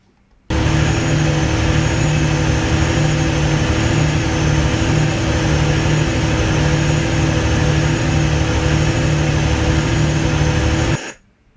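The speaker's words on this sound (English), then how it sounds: "So you can hear the engine was hunting." A generator engine hunting around 1500 RPM, its speed fluctuating slightly, gives a loud, steady droning hum that starts suddenly and cuts off cleanly after about ten seconds.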